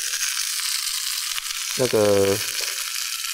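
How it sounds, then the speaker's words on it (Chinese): Scallops sear in a wok with a steady, close hiss of sizzling oil, and a voice speaks briefly over it partway through. "再加上我们今天的主角，就是干贝的部分，先让它做一个表面清煎的动作。"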